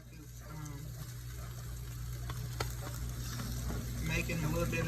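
Plant-based chicken frying in a pan for a stir fry, a steady close sizzle and crackle with a low hum underneath, growing slightly louder and busier toward the end.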